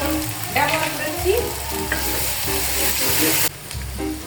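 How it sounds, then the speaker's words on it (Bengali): Spices fry and sizzle in a pan for achari chicken, with a spoon stirring and scraping close by, a steady hiss throughout and no talking. "এখন এটা আমরা একটু ভেজে নিব।"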